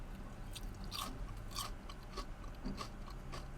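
Biting and chewing through a crispy coated pineapple piece gives soft, close crunches in a few irregular bursts against quiet room background, with no talking.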